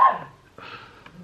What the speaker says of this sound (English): I do apologise for my dog.